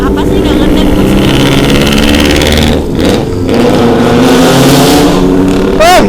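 A Subaru JDM car engine revs hard and roars loudly and continuously nearby, the pitch rising and falling with throttle, while people talk over it.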